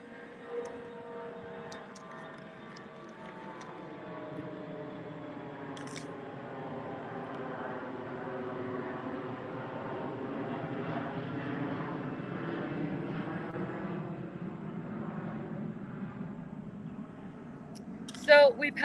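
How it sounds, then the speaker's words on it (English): An aircraft flies over a cemetery, its steady engine drone building gradually and holding throughout at moderate distance, with a brief clatter near the end. "And we've got another flyover."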